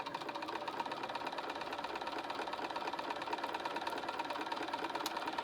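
Sewing machine stitching fabric for a mug rug at a gentle pedal speed, a soft steady rapid whirr of needle strokes, close and continuous without talk.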